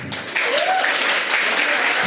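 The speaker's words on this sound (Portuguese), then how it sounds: "Palmas pro Benio." Church audience breaking into applause for a boy reciting lessons, a dense, loud burst of many hands that starts abruptly and carries on steadily, with a faint voice briefly rising underneath.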